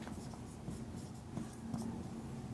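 Pen writing out a maths question on paper, a steady close scratching of strokes over a low constant hum, with no talking.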